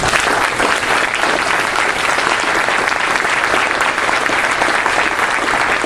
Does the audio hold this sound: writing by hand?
no